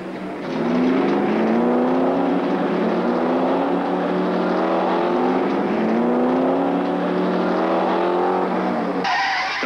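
A Ford race car screams past in a motor race, its high engine note sweeping loud and steady for about nine seconds, pitch bending down as it passes, then cutting off abruptly.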